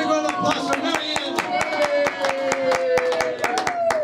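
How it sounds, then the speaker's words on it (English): Rhythmic hand claps ring out steadily for Marianne at a celebration, sharp repeated strikes layered over sustained voices or singing that carry throughout. "Big round of applause for Marianne"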